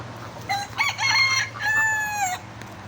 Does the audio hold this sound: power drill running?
no